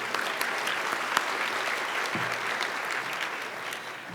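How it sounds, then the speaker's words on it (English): Steady applause from the audience at an International Women's Day event carries on throughout at moderate distance, with a brief low voice surfacing partway through. "Let's give her a hand, please."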